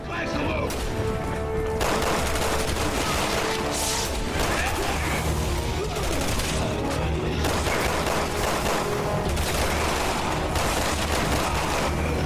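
Sniper gunfire in the Resident Evil 6 game cracks out as a loud, dense barrage of shots and impacts over continuous game noise, with a voice talking over parts of it.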